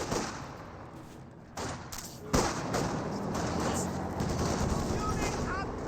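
Artillery barrage in Company of Heroes 2 striking Volksgrenadier infantry, with dense overlapping explosions and gunfire rumbling throughout and sharp thuds near the middle, loud and continuous under a background voice.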